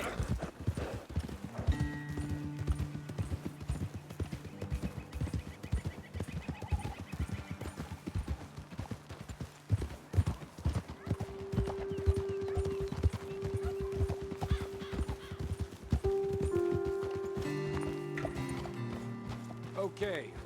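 Horses trotting in the video game Red Dead Redemption 2, a steady run of clip-clop hoofbeats close by, with occasional snorts and tack rattle and people talking over the hooves, ending as the horses slow.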